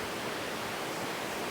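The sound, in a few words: waterfall at El Tigre Falls, Monteverde, Costa Rica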